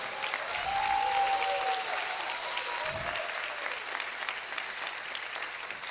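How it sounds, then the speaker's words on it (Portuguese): Applause from the audience at a university investiture ceremony, a moderate steady patter of clapping with a faint voice briefly heard over it near the start. "salve de palmas para a querida Denise Góes"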